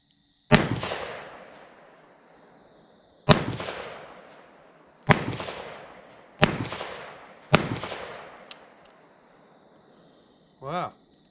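Five sharp, loud gunshots firing wax bullets at a shooting range, each a sudden crack with a fading tail, spaced a couple of seconds apart, followed by a brief voice.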